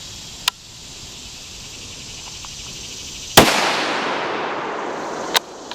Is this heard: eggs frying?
no